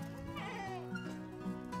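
Goats and sheep bleat on a farm, several wavering calls overlapping in a steady chorus over about two seconds, moderately close.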